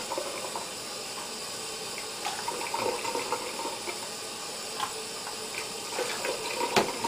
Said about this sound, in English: So cold water, that goes in.